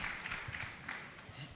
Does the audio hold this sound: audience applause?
yes